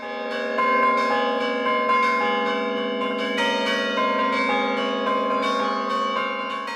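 Carillon bells ring out from the bell tower at Chandolin, struck by a carillonneur in overlapping tones that sustain and layer, loud and resonant, with new strikes arriving every second or so.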